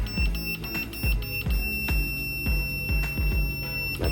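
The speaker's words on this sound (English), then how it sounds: "Pressing that one time puts you in pulse mode. And you'll hear it start beeping" A green laser level with slope function beeps in pulse mode, giving short repeated electronic tones at a steady rhythm, about one every half second, loud and close over a background hum, with no talking.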